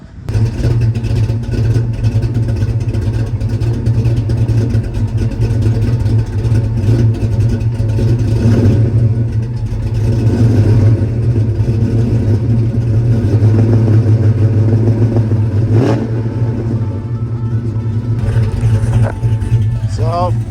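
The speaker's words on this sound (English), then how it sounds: "give it some revs, clear it out a little bit." A Fox Body Mustang engine being cleaned with Seafoam runs loudly and steadily at close range with a deep low hum, the revs swelling slightly at times.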